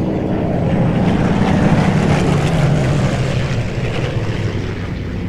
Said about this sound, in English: Just listen to those airplanes fly overhead.